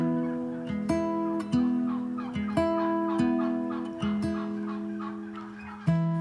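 Turkeys on a poultry farm in Nepal gobble loudly and close by, one rattling call after another at roughly one-second intervals, overlapping with fainter bird chatter behind.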